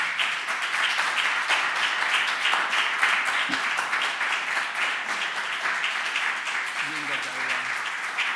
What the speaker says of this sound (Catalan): Jo crec que es mereix un fort aplaudiment